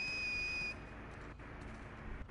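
A sustained whistle from The Last of Us Part II, a steady high tone held for about three-quarters of a second before cutting off, leaving low game ambience rumbling on underneath.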